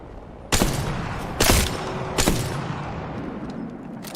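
Three loud, sharp gunshot bursts about a second apart during a video game shootout, each a broadband crack with a short rumbling tail, over a steady low game background.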